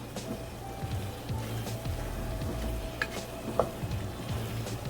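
Four cloves of pressed minced garlic sizzle softly in a pan while being stirred, a quiet, even frying hiss broken by light spoon scrapes and a couple of small clicks.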